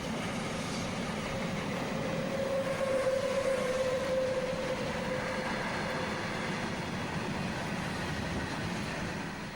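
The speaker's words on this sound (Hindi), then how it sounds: "रेलवे ने इस मालगाड़ी को एनाकोंडा नाम दिया है, सबसे लंबी सबसे बड़ी मालगाड़ी" Very long Indian Railways freight train called Anaconda, a continuous heavy rumble of wagons rolling past, steady and moderately loud throughout, with a brief tonal whine partway through.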